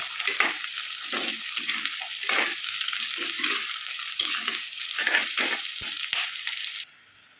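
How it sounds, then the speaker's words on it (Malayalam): Two large onions sautéing in a pan: a dense, steady sizzle carries throughout, with repeated bursts of stirring and scraping pulsing in an uneven rhythm close by, until the sound drops away near the end. "സവാള വഴന്നു വന്നിട്ടുണ്ട്"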